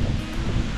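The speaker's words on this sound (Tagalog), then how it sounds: "Lakas ng hangin!" Strong wind buffeting an outdoor camping site, a steady rough low rumble of gusts hitting the microphone throughout, loud and close, with no voices.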